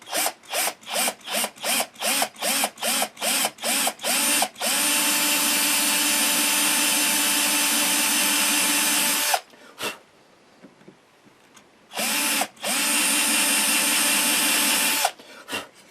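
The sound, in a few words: hand-held drill drilling guitar inlay hole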